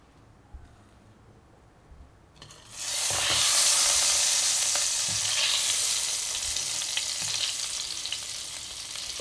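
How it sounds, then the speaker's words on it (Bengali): Potatoes dusted with a little turmeric drop into hot oil in a kadai and burst into a loud, steady sizzle after a quiet start, with occasional stirring clinks in the frying. "দিয়ে আলুটাকে আমি আগে ভেজে নেব।"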